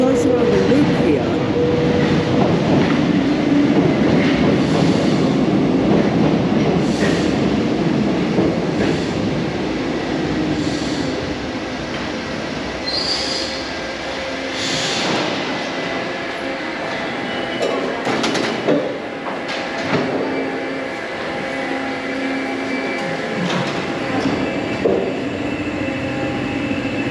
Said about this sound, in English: The train goes around the loop here.